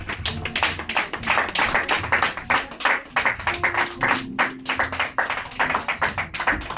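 A church congregation at a French-language service applauding loudly: dense, continuous rhythmic clapping from many hands, filling the room without pause.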